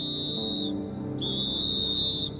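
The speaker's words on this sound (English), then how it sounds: "He even carries a whistle around his neck, which he uses to attract attention." A shrill whistle blast, then a brief pause and a second, longer blast, loud and close, with a low rumble of background noise beneath.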